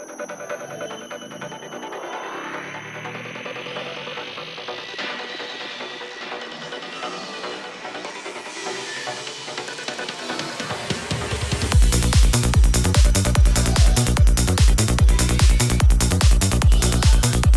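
Synth riser built in Serum 2 for a psytrance track, sweeping steadily upward in pitch over about ten seconds before a loud, driving kick-and-bass pattern drops in and pulses rhythmically to the end.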